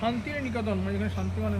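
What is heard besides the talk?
No everyday noises stand out.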